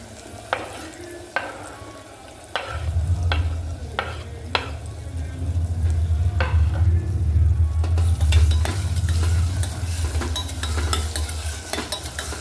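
Chopped chillies and tomatoes with potatoes stirred in a pan: sharp spoon knocks against the pan, then a loud, steady frying sizzle rises under repeated scraping stirs, up close.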